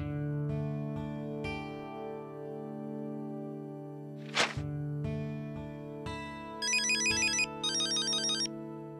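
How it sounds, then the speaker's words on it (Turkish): A mobile phone ringtone plays a looping electronic melody of sustained tones, joined near the end by a brighter chirping ring pattern, with no voices. "telefonun çalıyor."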